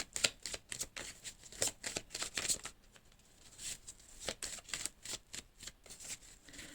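Oracle cards are shuffled in quick bursts of crisp, flapping riffles, then drawn, close and fairly quiet, with a short pause midway before the shuffling resumes.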